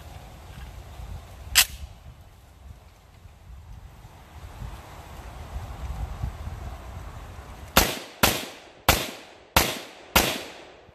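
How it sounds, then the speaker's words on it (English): Rapid rifle fire through a VG6 Epsilon muzzle device: one early shot, then five sharp loud cracks in quick, evenly spaced succession near the end, with wind noise in between. "now we're gonna take our rapid fire shots"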